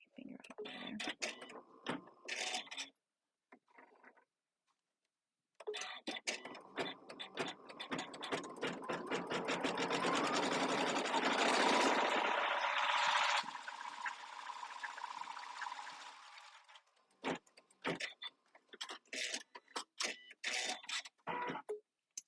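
Janome embroidery machine stitching a satin stitch outline in cutwork, a rapid close mechanical rattle that builds into a dense continuous whir, with stops and starts and clicking at either end.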